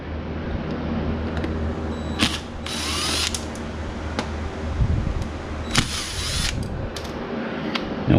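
Power drill working on gearbox bolts, a steady mechanical whir with rattling ratchet-like clicks and several sharp bursts of high-pitched grinding, close and fairly loud throughout.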